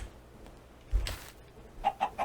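Chickens clucking in Minecraft: a low thump followed by a burst of noise, then three short, evenly spaced clucks close by at the end, with no talking.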